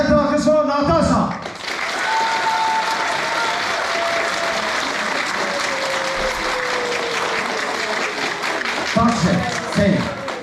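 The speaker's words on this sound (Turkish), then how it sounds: "Applause. Aplodisment, alkış for Natasha" Hotel audience applauding a Miss Paradiso beauty pageant contestant in Alanya, a sustained loud wash of clapping lasting several seconds, with brief voices at the start and end.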